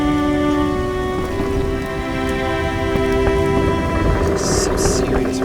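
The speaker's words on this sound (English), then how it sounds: "Some serious rain." A downpour in The Witcher video game pours steadily as a constant wash of rain on surfaces, with a low sustained hum beneath and a brief brighter patter near the end.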